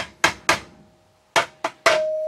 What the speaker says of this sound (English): what do you want to use to smash the broken doorbell?